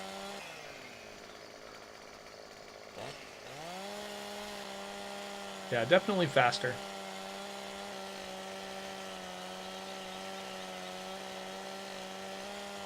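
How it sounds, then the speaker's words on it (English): Chainsaw cutting a tree in Farming Simulator 17, a steady mechanical drone that rises in pitch and holds, with a brief harsher burst of bite partway through, while someone talks briefly over it. "the first thing you'd buy is a chainsaw"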